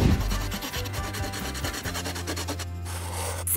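Coloured pencils shade and blend across paper in close, continuous rubbing and scratching strokes with a steady rhythm, heard over soft background music.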